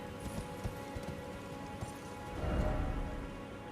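Horse hooves clop in a quick, irregular rhythm in the game Elden Ring, fairly quiet and close, with a brief louder rumble in the middle and no talk over it.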